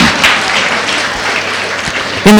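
Audience applause at a school day function celebrating 100% exam results, a broad steady wash of clapping sustained for a couple of seconds before a voice cuts in at the end.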